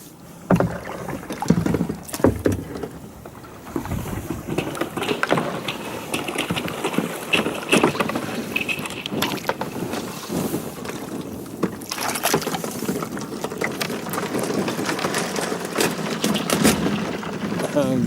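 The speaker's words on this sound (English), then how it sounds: "I'm going to try and hold on and paddle here" Paddling a small boat through icy November water, with splashes, knocks and crunching ice close up, irregular and mixed with wind buffeting the microphone, while someone talks.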